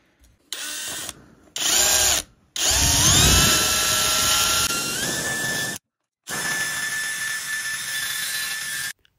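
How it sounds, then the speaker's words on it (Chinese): A high-speed power tool with a grinding bit grinds out the broken remains of a cheap alloy angle valve in a bathroom pipe thread, whining loudly in several separate bursts with short pauses between them. "我们把断角阀的一些余料呢全部给它打磨掉。"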